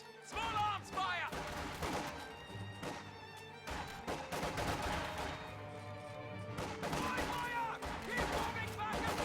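Small arms gunfire rattles through a World War II strategy game battle involving Volksgrenadiers, with dense overlapping shots and crashes running throughout and someone narrating over the fighting.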